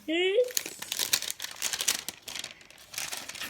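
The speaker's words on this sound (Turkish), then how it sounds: "Hadi aç bakalım şimdi bunun paketini." A toy package's plastic wrapping crinkles and tears as it is opened up close, with quick rustling bursts and a voice at the start.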